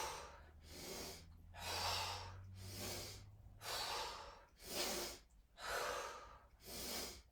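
Vigorous yoga breathing comes in forceful, rhythmic breaths, about seven strong airy cycles at a steady pace, close and clear with no talk.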